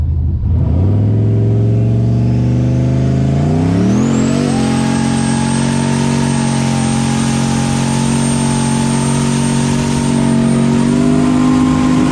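A car engine revs hard during a tire burnout, loud and sustained, pitch climbing sharply around four seconds and then holding at a high, steady scream to the end with no talk over it.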